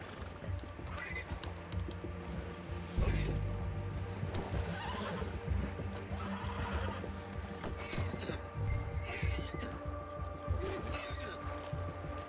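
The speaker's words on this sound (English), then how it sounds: "Get on your horse." Horse hooves clip-clop steadily through a Red Dead Redemption 2 game scene, with occasional whinnies and neighs over a busy ambient soundscape at moderate loudness.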